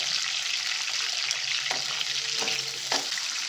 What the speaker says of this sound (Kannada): ಎಲ್ಲ ಕೆಂಪಿಗೆ ನಾವು ಫ್ರೈ ಮಾಡ್ಕೋಬೇಕಾಗುತ್ತೆ